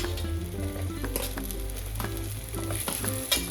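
Shallots frying in coconut oil for sambar, a close, steady crackling sizzle with scraping stir strokes layered over it and no voices.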